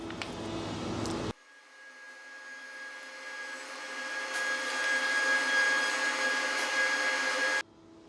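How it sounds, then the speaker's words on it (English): Table saw and jointer running in a makerspace woodworking zone, heard as a steady mechanical whine with a tonal hum that starts abruptly, holds for several seconds and cuts off sharply, with no talk. "You might hear some of the table saw noise, joiner noise in the background."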